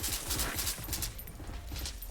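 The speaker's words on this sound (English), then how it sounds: "I'm just going to start shooting these cups" Rapid gunfire in the game Valorant aimed at cups, a dense string of quick shots followed by a stretch of scattered fainter bursts, no talking.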